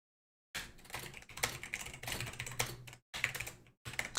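Rapid clacking of a loud computer keyboard, bursts of close, crisp keystrokes broken by a few brief pauses, with no talking.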